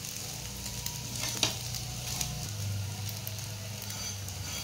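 A fasting-style crispy dosa sizzles steadily on a hot pan while its second side roasts, a constant close frying hiss with a few soft scraping taps along the way.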